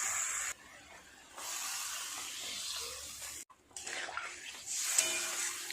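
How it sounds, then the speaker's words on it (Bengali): Water pours and splashes into a cooking pot of potatoes and taro in a home kitchen, a soft continuous hiss that pauses briefly and resumes, with no talking. "আরও অল্প একটু জল দিতে হবে।"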